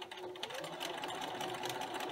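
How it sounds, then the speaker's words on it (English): A sewing machine runs continuously, stitching apron fabric along a centre line in a steady, close, fast-ticking mechanical whir with no talking. "Align the bottom and the sides, and we're going to sew along that middle line."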